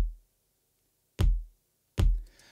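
Two deep, close foot stomps recorded for use as a kick drum, each a heavy low thud with a quick decay, spaced well apart after a faint tail at the start.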